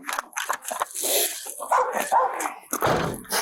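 A pitbull barks and whimpers amid a chaotic indoor scuffle, with loud, agitated voices talking over it and scattered rustling and zipper-like noises.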